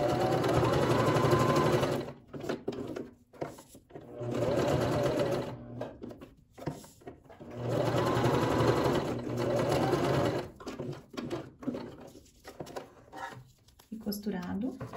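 A sewing machine runs in bursts as it stitches a seam around two pinned fabric scraps laid one over the other, with pauses between runs and light handling sounds at the end.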